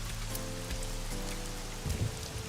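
Pouring rain in the video game AI: The Somnium Files, a steady wash of rainfall with faint low background music underneath and a few louder drops or thumps near the end.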